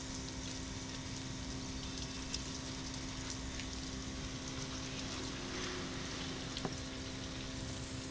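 Water pours steadily onto potted aglaonema plants in a home garden, a continuous close rush and splash with a faint hum underneath, no talking.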